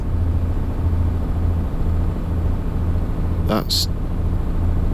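A MAN truck engine in Euro Truck Simulator 2 holds a steady, fairly loud low drone throughout, with a brief spoken word near the end.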